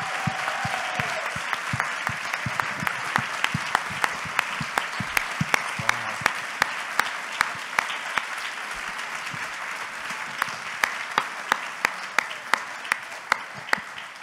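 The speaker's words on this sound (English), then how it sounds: "they won't stop applauding." Sustained applause from an audience at a book event, a steady bed of many hands with distinct sharp claps popping out at a regular rhythm, continuing at even loudness for the full stretch.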